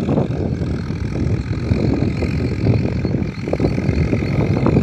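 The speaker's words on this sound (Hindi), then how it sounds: "तो अपने खेत में जुताई स्टार्ट हो गई है" Steady, loud engine rumble of a tractor ploughing a farm field in summer, continuous low drone with wind-like broadband noise throughout and no speech.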